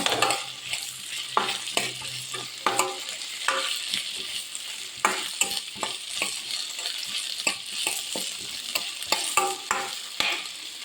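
Potatoes frying with capsicum in a pan: a continuous oily sizzle broken by repeated sharp scrapes and knocks of a spoon stirring against the metal, close up and with no talking.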